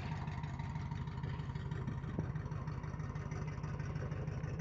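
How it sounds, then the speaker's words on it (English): An old school bus engine idling steadily nearby, a continuous low rumble with a faint rhythmic throb that holds even throughout, with no speech. "Sounds like somebody fired the school bus up while we was going back there messing around."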